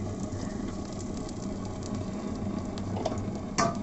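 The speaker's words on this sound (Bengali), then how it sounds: "এবার একটু হিং ফোড়নে দিয়ে দিলাম।" Asafoetida sizzling in hot oil as a tempering for potato dum, a steady soft frying hiss with faint crackles and a brief clatter near the end.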